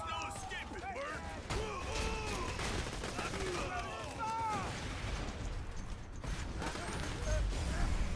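Repeated gunfire from an iron-sighted gun in Borderlands 2, rattling in bursts across the clip amid other combat noise and music.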